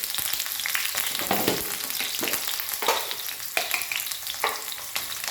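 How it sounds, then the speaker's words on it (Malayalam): Mustard seeds and crushed ginger sizzle in hot oil on a low flame, a steady close crackle broken by periodic stirring scrapes, with no voices. "ഇതിലേക്ക് ഒരു അര ടീസ്പൂൺ കടുകിടാം എണ്ണ ചൂടായ കാരണം കടുകിട്ട് ഫ്ലെയിം കുറച്ച് ലോ ഫ്ലെയിമിൽ വെച്ചിട്ട് ഇഞ്ചി ഇട്ട് കൊടുക്കാം"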